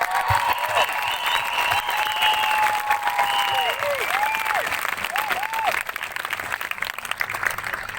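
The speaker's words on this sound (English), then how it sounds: "I think that deserves a round of applause." Outdoor crowd at a Brisbane, Queensland rally applauding the police, steady dense clapping throughout with some whistles and cheers mixed in, a few faint voices beneath.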